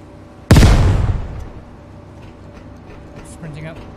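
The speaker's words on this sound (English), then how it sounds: "I'm gonna throw a grenade." A single grenade goes off in the Tanker Terror Hunt game mode, a sharp, loud nearby blast whose rumble decays over about a second, followed by quieter background game noise and faint voices.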